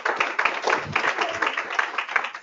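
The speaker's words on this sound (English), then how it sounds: "So thank you all for giving them a round of applause" Audience applause for board members standing at a post-legislative-session wrap-up event, a brief burst of steady, moderately loud clapping with a voice speaking over it.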